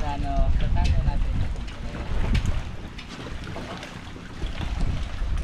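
Wind buffets the microphone while rough sea waves slosh and churn against a boat, a steady blustery roar with surging swells.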